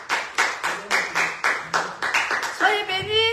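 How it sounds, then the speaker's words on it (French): A church congregation claps in a steady rhythm during a Sabbath service, a run of roughly a dozen close, evenly spaced claps, then a sung or sustained voice rises at the end. "On peut applaudir le Seigneur"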